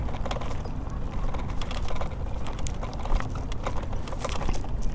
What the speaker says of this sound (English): That's the sound of a frozen motor.